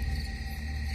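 Crickets chirping steadily through a quiet night, a continuous high insect trill with no other sounds.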